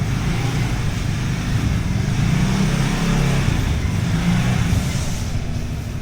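A car driving along with a steady engine drone and road rumble from inside the cabin, even and fairly loud throughout, no voices.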